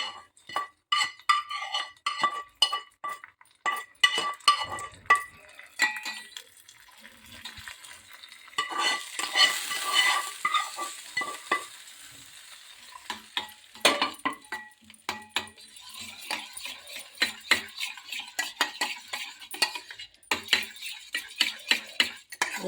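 Tempering spices crackle and sizzle in hot oil for spiced curd, with a spoon clinking and stirring against a metal pan in quick, irregular bursts; no talking.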